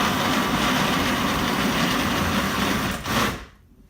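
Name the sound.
kitchen blender running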